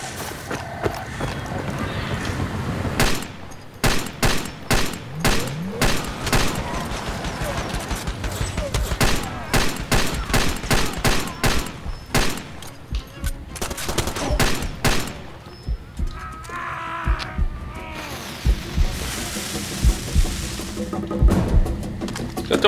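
Weapon fire in the video game Far Cry 2, loud bursts of rapid gunshots in quick volleys with short pauses between them, close and sharp over a busy game background.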